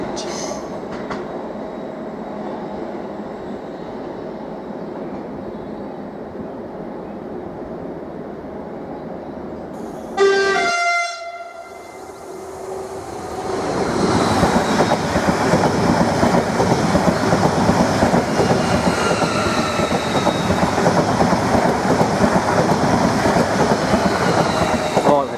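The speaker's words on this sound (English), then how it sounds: "745006 has just passed. Working a stop positioning move, I believe." A Greater Anglia Class 745 electric train passes on a stop positioning move, a loud, close rushing roar with rhythmic wheel clatter that swells and holds steady, after a brief high tone.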